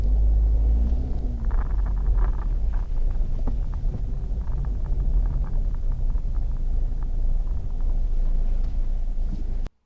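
A 2012 Scion iQ eases into a parking spot, its engine a low, steady rumble heard from inside with wind buffeting the microphone, continuous for several seconds before cutting off abruptly.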